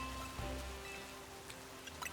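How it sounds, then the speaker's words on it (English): Soft, steady rain falling in a Pokémon game, a faint continuous patter with a few light drips, heard quietly in the background. "Can this rain stop?"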